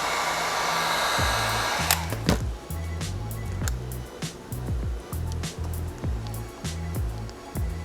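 A heat gun blows on vinyl wrap on an S2000 shifter bezel, a loud steady airy roar for about two seconds that then cuts off, followed by scattered clicks and low rhythmic thumps.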